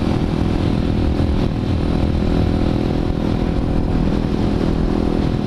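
Motorcycle being ridden, a loud, constant engine drone mixed with rushing wind, steady throughout with no breaks or speech.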